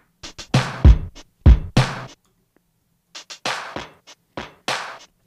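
Sampled tape drum break with a low cut filter, crisp chopped hits of snare and hats in a loose groove with a short gap midway, the deep low end thinned out, close and alone.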